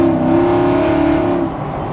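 A supercharged 1UZ V8 Hilux ute roars under hard acceleration with the rear wheels spinning, a loud close engine tone that holds and then eases off near the end, no talking.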